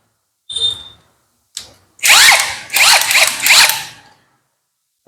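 A J-LD JV88 cordless impact wrench (350 Nm) whirs briefly twice, then hammers in three loud rattling bursts while removing a motorcycle exhaust, close by and alone.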